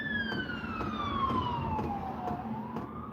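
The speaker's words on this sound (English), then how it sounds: "Ambulances, yeah." An ambulance siren wails as it passes, a falling then rising tone with a steady sweep, moderately distant over low traffic rumble, no one speaking.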